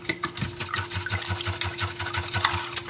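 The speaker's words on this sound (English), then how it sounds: "I'm going to rinse my brush now." A paintbrush loaded with acrylic paint is rinsed in a container of water, making a rhythmic series of soft swishes and light knocks up close, ending in a brighter clink. No one speaks.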